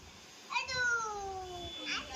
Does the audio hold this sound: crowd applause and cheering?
no